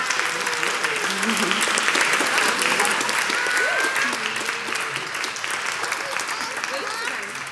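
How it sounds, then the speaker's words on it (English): Congregation in a church applauds after a baptism at a Sunday worship service, a full, steady clapping that slowly thins toward the end while scattered voices murmur underneath. "Would you all like to give her a round of applause for being really brave in her baptism?"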